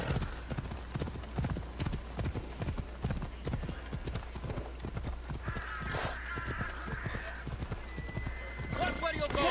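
Horse hooves clip-clop in a steady trotting rhythm in the video game Assassin's Creed Odyssey, close and even, with a horse whinny and a brief bird call breaking through near the end.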